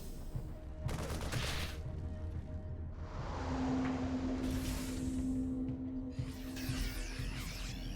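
Marines firing rapid rifle volleys at Zerglings in a StarCraft 2 Terran versus Zerg finals match: sustained, dense gunfire bursts with whooshing game effects over a steady battle din, continuous and loud throughout.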